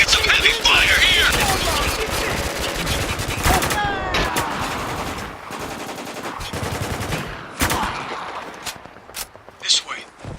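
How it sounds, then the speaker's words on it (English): Gunfire in the shooter game Spec Ops The Line: loud, dense bursts of automatic weapons and single shots crackle close by, easing off into sparser shots toward the end. "we're taking some heavy fire here!"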